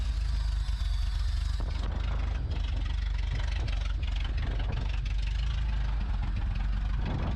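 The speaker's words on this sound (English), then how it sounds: "I'm starting the engine manually. The ignition's working, it's holding revs" An old truck engine idles steadily after starting, a continuous low rumble with slight uneven knocking, close and loud throughout with no talk.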